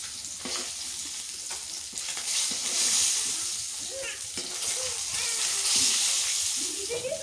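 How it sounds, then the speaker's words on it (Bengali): Fish fries in a pan with a continuous crackling sizzle, now and then swelling and spattering. People talk nearby, partly over the frying. "এখন আবার ওই যে মাছ ভাজি করতেছে"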